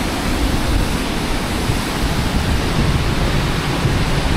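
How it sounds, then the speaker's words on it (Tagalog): Pinsal Falls waterfall in the mountains, a loud, steady roar of rushing, crashing water that fills the whole scene without pause. "Oh, Pinsal Falls."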